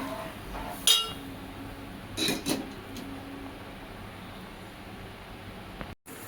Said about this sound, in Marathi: आता आपण दूध टाकून घेतलं, व्यवस्थित हलवून घेऊया.